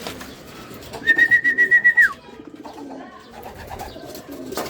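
Racing pigeons at a loft during a derby race coo close by in a rhythmic run of soft pulsing notes, followed by quieter bird sounds and background noise.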